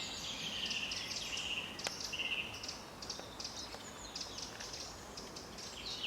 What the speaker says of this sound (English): That larger bird being mobbed by the sparrow-sized birds.